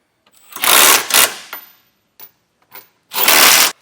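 Ratcheting wrench tightening bolts on a Curt trailer hitch receiver being installed on a 2024 Toyota Highlander, a few loud close bursts of rapid clicking separated by short pauses and lighter taps.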